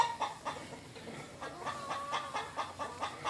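Farm hens cluck in a repeated, fairly close series of short calls, with more clucks following at an uneven rhythm and no talking.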